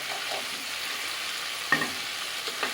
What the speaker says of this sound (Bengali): সর্ষেটা একটু ভালো করে ভেজে নিতে হবে